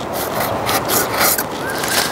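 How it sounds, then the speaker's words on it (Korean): A hand saw cuts through a tree branch during pruning, giving a steady, continuous rasping scrape of teeth on wood at close range, with no talking. "자, 자르고 있죠."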